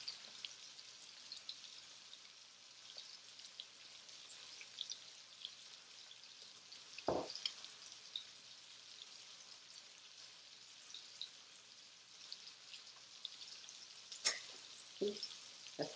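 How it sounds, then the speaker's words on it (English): Pork chop searing in a hot skillet over medium-high heat, a faint, even sizzle throughout with a couple of brief knocks and clicks. "let it sear for about 3 minutes each side on a medium to high skillet"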